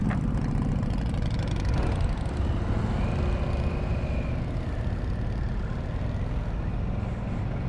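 A 2022 Harley-Davidson Sportster S motorcycle engine runs with a deep, beefy, steady rumble, loud and close throughout, with slight shifts in pitch as it revs.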